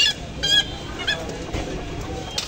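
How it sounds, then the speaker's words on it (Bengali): Chickens and roosters at a poultry shop cluck and squawk in loud, close bursts over a busy background, with a few sharp calls spaced through the scene. "কক মুরগি আছে, এই যে নতুন, এই যে সাদা কক"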